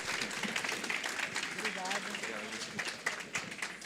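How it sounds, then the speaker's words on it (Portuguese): Round of applause from an audience at a stage event, clapping mixed with cheering voices and a speaker talking over it, moderately loud and continuous. "Uma salva de palmas!"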